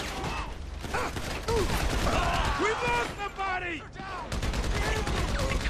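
Gunfire in GTA V comes as rapid bursts of shots with mechanical clatter, repeated across the moment, alongside a voice speaking German and other game sounds.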